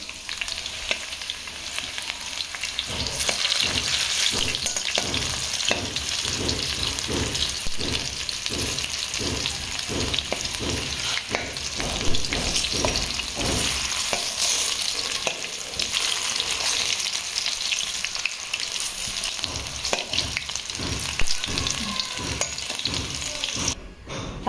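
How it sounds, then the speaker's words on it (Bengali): Potatoes frying in a pan make a continuous close sizzle and bubble, with repeated rhythmic stirring scrapes and a watery hiss running throughout, no talking. "আমি এখানে আলুগুলো ভাজতে দিয়ে দিয়েছি।"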